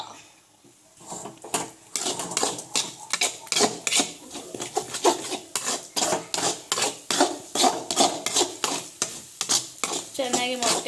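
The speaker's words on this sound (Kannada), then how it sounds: "ಮೊಟ್ಟೆ ಹೊಡ್ಬಿಟ್ಟು ಚೆನ್ನಾಗಿ ಕಲಿಸ್ಬೇಕಾ" Three eggs are beaten for egg rice with rapid, rhythmic strokes of a utensil clattering against a bowl, repeated close up for about ten seconds.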